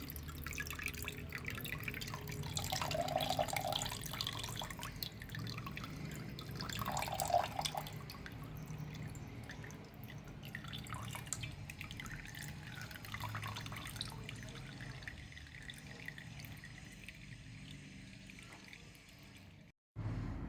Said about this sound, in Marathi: त्याच्यासाठी हे स्वच्छ धुवून घेतलं मी.